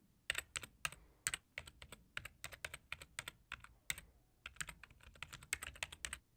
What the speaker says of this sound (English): Now, you may be wondering why I'm typing